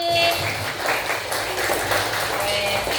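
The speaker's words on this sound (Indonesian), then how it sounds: "Tepuk berkali-kali." Children in a group clapping exercise clap rapidly many times over, a continuous busy patter of overlapping hand claps, close and fairly loud, with a voice talking over it.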